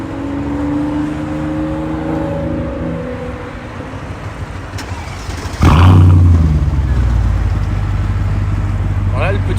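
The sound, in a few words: Mercedes CLK 55 AMG engine starting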